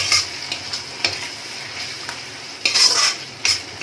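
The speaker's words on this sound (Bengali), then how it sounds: "ভালো করে নাড়িয়ে চাড়িয়ে নিচ্ছি।" Chilli chicken is stirred with oyster sauce in a frying pan over a high gas flame, a close steady sizzle broken by a few sharp scrapes and clinks of the spatula against the pan, with no one speaking.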